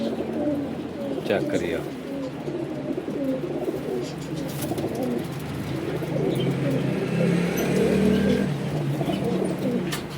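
Pigeons coo steadily in a low, throaty murmur around a pigeon dealer's stock, mixed with occasional chirps and a passing car, while someone talks briefly over them.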